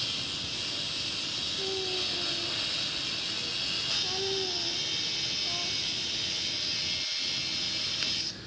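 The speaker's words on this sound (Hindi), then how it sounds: "इस तरह ग्राइंडर के साथ ये सुराख निकाला जाएगा" Angle grinder cutting a round hole in a marble plate for a P-trap fitting, a steady, harsh high-pitched whine and hiss that holds throughout and cuts off at the end.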